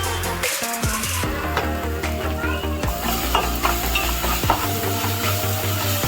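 Chicken tossed with salt, turmeric and chilli in a hot pan sizzles loudly and steadily, with repeated scraping and clattering strokes of the stirring spoon over a low humming background.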